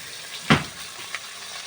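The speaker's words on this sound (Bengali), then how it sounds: "মাছগুলো ভাজা হচ্ছে, ধীরে ধীরে ঝোল বানানো হবে" Fish sizzles quietly in hot oil under a steady soft hiss, with one brief louder spatter burst and a faint second crackle shortly after.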